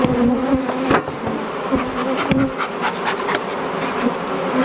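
Dense buzzing of many honey bees swarming close by during removal of a hive from a large log, a continuous droning hum with occasional sharp knocks and thumps mixed in.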